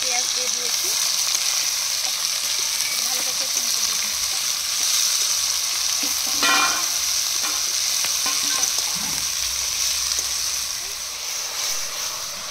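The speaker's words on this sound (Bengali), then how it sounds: "এবার তেলের ওপর সবকিছু ফোড়ন দেওয়া হলো, শুকনো লঙ্কা, তেজপাতা, লবঙ্গ। এবার পেঁয়াজটা দেওয়া হচ্ছে।" Onion drops into hot oil already tempered with dried chili, bay leaf and cloves, giving a loud, continuous sizzle with stirring scrapes, cooked outdoors at a family picnic.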